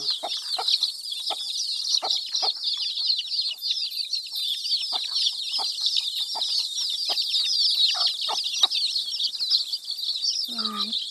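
Chicks peep in a constant high-pitched chorus while hens cluck in short, scattered bursts. The birds are close and loud throughout.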